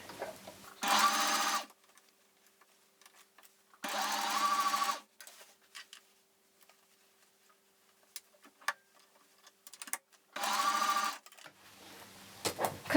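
A sewing machine runs through thick fabric in three separate bursts of rapid mechanical stitching, each lasting under a second, with quiet handling clicks and rustling between them.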